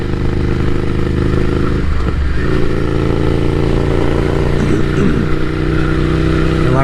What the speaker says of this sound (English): once you add a slip-on exhaust, that sound, that classic L-twin sound